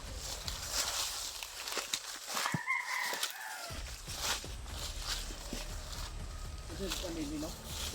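Chickens cluck and a rooster crows faintly amid a noisy outdoor scene, with people talking and footsteps nearby.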